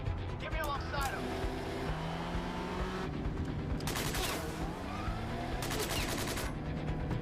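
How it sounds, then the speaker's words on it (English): Gunfire strikes a car's windshield during a vehicle chase in Quantum Break, loud bursts of shots in two clusters over constant engine rumble, with voices talking throughout. "It's nice of them to shoot at his windshield, but not break it"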